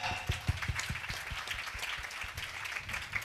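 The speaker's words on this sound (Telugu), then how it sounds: "చప్పట్లు కొడదాం ఒకసారి గట్టిగా." An audience claps at a Telugu Christian gathering, dense steady applause with a few louder claps standing out, holding at an even level throughout.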